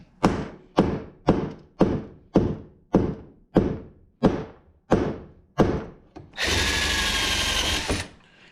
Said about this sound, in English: I got drills.